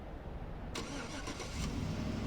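The 5.3 liter V8 of a 2013 GMC Sierra SLT pickup cranks over via remote start, a brief crank followed by the engine catching and settling into a low, steady idle heard from a short distance.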